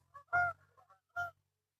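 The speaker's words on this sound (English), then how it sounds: "there's a bunch of geese." Geese on a foggy family farm give two clear honks separated by a short pause. The calls are fairly faint, with no other sound around them.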